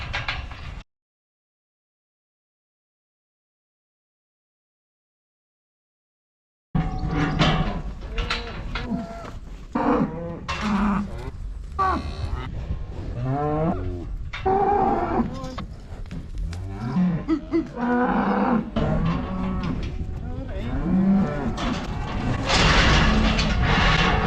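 Cows and calves on a farm moo and bellow repeatedly, overlapping loud, close calls after a brief silence, with some clattering and thuds from the pen.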